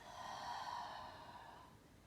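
Slow, deep breath during a yoga flow, a single soft airy exhale lasting about two seconds, faint and close.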